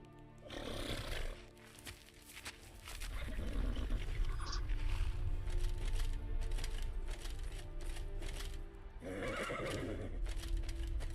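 A horse in the Skyrim video game neighs and whinnies in a few bursts over low rumbling background game sound, with clopping hooves in places.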